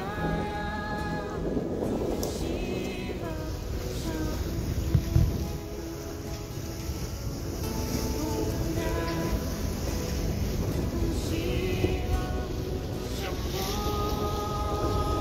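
Sailboat under sail heading toward Crotone off southern Italy, steady rush of wind across the microphone over continuous water wash against the hull, with a faint onboard voice now and then.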